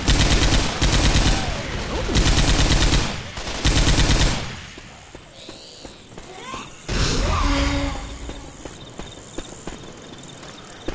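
Explosive frag rounds fire in Left 4 Dead 2, loud rapid bursts of gunfire in clusters with sharp blasts, broken by quieter stretches of ambient insect-like chirping and footsteps.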